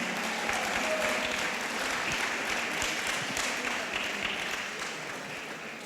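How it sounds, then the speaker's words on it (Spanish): A church congregation at a 2021 conference claps together in steady, sustained applause, fairly faint and distant, holding evenly for several seconds before easing off slightly. "Dale el aplauso fuerte al Señor"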